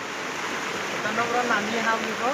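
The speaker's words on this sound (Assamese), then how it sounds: "এইপিনে এইটো নদী, বাল্টি নদী" Steady rushing water of a river flowing down from Bhutan, nearby and in flood, filling the clip evenly with a faint voice underneath.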